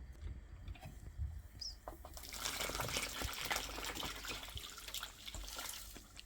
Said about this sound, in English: I'm going to take this mixture now and pour it into the millet and corn flour.